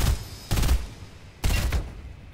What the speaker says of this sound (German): der Kanonenboot schießt auf mich